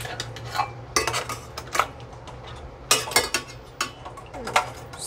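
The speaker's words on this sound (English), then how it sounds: "We just pop off our lids." Canning lids lifted off a stack with clean metal tongs while making mushroom and mustard pickles, a run of sharp metallic clinks and clatters, close and irregular, with no talk.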